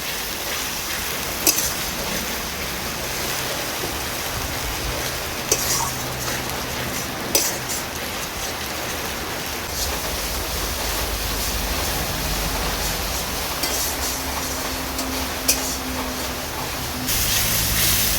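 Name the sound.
spice paste with tomato frying in pan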